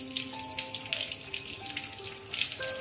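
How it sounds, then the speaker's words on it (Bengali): Tap water runs steadily over a dragon fruit being washed under a faucet, a continuous close splashing with brief tonal ringing, no talking. "তার জন্য এই ফলটা প্রথমে খুব ভালো করে একটু ধুয়ে নিতে হবে।"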